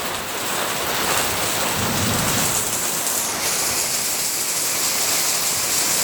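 Thunderstorm with steady heavy rain pouring and pooling on a deck, a low rumble of thunder swelling in the middle, continuous and fairly loud with no voices.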